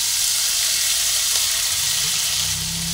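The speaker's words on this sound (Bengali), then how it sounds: "মশলাটা একটু ভেজে নিচ্ছি।" Spices with turmeric, Kashmiri chilli powder and ginger fry in hot oil, giving a steady loud sizzle throughout with faint stirring near the end, no voices.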